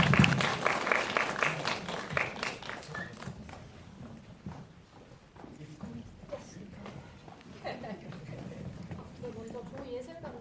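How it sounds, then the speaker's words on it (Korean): Audience applause welcoming film directors and actors onstage at a film festival screening talk, a dense burst of clapping that thins into scattered claps and continues under a host's voice. "앞으로 모실 테니 박수를 좀 맞아주세요."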